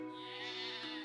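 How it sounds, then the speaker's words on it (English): A sheep in the Settlement Survival game, in an Easter Island scenario, gives one faint, sustained, wavering bleat that holds steady for about a second. "We've now got sheep"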